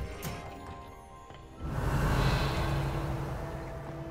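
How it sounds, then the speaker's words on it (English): Rain pouring from a small rain cloud hovering over a character in the video game Hogwarts Legacy, a steady broadband hiss that starts abruptly partway through and continues loud and close. "Hey, why do you got a rain cloud over you,"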